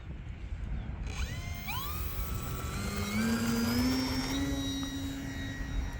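An E-flite Decathlon RJG 1.2 m electric RC airplane's motor winds up for takeoff toward a pond, a rising whine that climbs in pitch and holds steady over constant outdoor wind noise.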